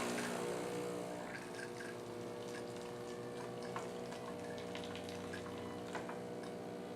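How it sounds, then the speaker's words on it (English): A coffee machine dispenses hot water in a steady gushing, humming stream, with a low mechanical pump drone underneath and a few faint clicks, no voices. "Hot water is gonna come out from this."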